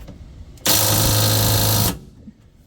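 A power tool runs in one loud, steady burst of just over a second, a high buzzing whir, while it tightens the running board spacer bolts on a 2000 Ford F-150 Lariat, with quiet before and after.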